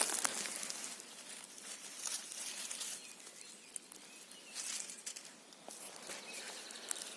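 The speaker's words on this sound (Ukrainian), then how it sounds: "У нас зараз дощик накрапає." Light rain drizzles in a pine forest in spring, a soft steady patter of drops on foliage with occasional louder taps, quiet and diffuse with no voices.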